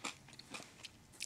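Caramel popcorn being chewed close up, soft crunchy bites in a quick irregular series, faint and intimate with no talking.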